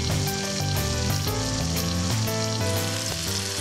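Spices with garlic and ginger paste fry loudly in a pan, a steady close sizzle with scraping stirs over a constant kitchen hum.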